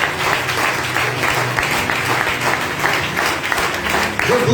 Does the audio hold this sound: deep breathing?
no